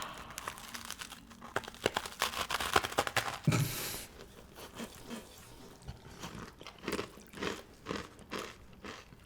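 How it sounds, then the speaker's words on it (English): Crisp, close crunching and crackling of a freeze-dried Big Mac chip being bitten and chewed, in repeated bursts with a few louder bites and no talk. "This is a crunchy chip with a whisper of a Big Mac."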